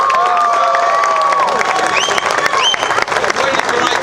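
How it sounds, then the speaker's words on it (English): Crowd at a city event honoring a parade group from Elmora bursts into loud, sustained applause and cheering, with whoops and shouts rising over the clapping throughout. "Let's give them a great big round of applause."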